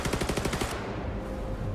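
A rapid burst of machine gun fire from a video game trailer, with dense, evenly spaced shots for under a second before they dissolve into a low, rumbling battle din.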